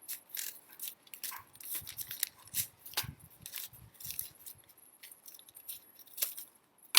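Scissors snipping through a stack of paper bags, with a quick irregular run of crisp cuts and paper crunches close by.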